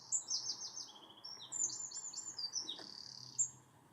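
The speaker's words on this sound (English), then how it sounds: "Just robin birdsong." Robins singing on an allotment plot, bright repeated chirps and short warbled phrases in quick succession, fairly faint and close with a quiet outdoor background and no voices.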